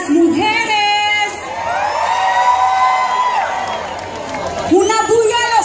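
A festival crowd at the Festival del Pacifico 2017 cheers loudly for the women, with sustained whoops, shrill shouts and rising yells from many voices that swell again toward the end.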